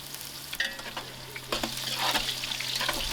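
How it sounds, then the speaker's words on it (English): Browned onions are stirred in a large pot over an outdoor wood fire while cooking vegetable biryani for 25 people. A steady sizzle runs underneath, with clattering spoon scrapes against the pot and a louder burst of frying toward the end. "Give it a mix. My onions has browned up."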